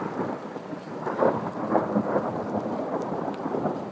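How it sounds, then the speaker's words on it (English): Halloween hailstorm with thunder and lightning, hail mixed with snow falling outdoors: a loud, continuous rumbling roar with dense pattering impacts swelling and easing throughout, no voices. "big, huge hail things, snow things now"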